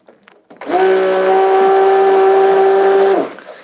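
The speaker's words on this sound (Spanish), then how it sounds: "Le vamos a meter la batidora, ¿para qué? Para incorporar" An electric blender whirs steadily for about two and a half seconds, mixing thickener into a homemade clove shampoo, with a loud sustained motor tone that starts abruptly and cuts off cleanly.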